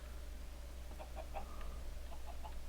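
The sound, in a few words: chickens clucking in Minecraft video game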